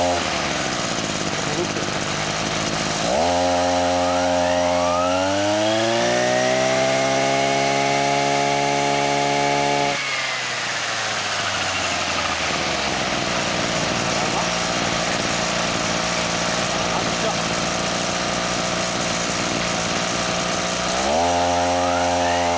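A repaired, previously seized Kubota brush cutter engine revs up loudly, holds a high steady whine for several seconds, drops back to a rough idle, then revs again near the end.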